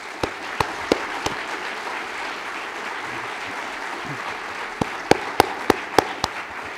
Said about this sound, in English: And I think Eric and the staff of WIPS deserve our deepest appreciation and a round of applause